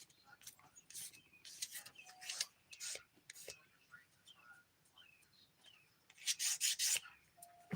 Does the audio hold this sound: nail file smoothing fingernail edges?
yes